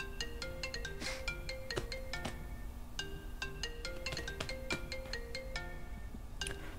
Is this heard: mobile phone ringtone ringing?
yes